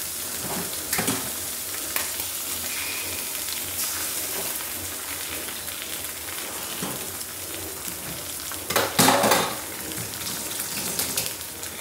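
An egg frying in a pan alongside tapioca, giving a steady close sizzle and crackle throughout with a few brief louder spatters and clatters, and no talking.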